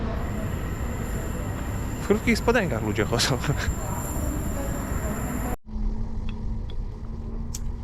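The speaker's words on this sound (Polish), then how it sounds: "I już jesteśmy w pociągu." Inside a train heading toward Oslo Central from Gardermoen in Norway: steady rumbling carriage noise with a faint squeal, a brief cut near the end, while a person talks over it throughout.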